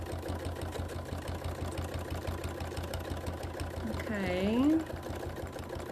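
Sewing machine stitching down fabric appliqué edges, a steady mechanical whir running throughout with a brief rise near the end, while someone speaks briefly over it.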